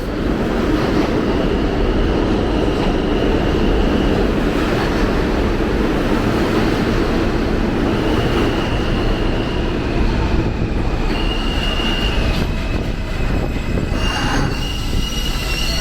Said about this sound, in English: That's an M train, not an F.